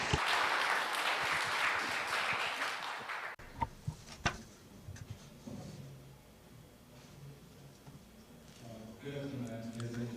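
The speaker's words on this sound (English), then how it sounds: "Please give him a big round of applause as he comes up to the stage" An audience at an international forum applauds as the opening speaker comes up to the stage: a few seconds of dense crowd clapping that cuts off abruptly, followed by quieter room sounds, a few thumps and then a voice speaking.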